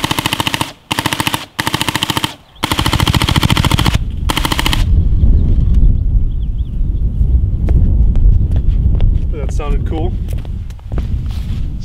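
A Dye M3s paintball marker fires in several rapid bursts, sharp, loud and close outdoors, followed by a steady wind roar with faint distant chirps.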